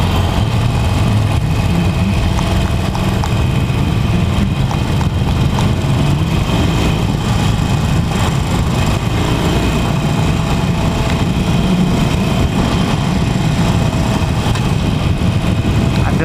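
A 2018 Harley-Davidson Forty-Eight Special motorcycle engine runs steadily, a continuous loud low rumble with wind noise and no break over the whole stretch.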